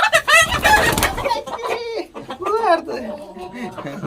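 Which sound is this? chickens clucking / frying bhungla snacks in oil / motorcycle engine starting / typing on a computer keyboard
chickens clucking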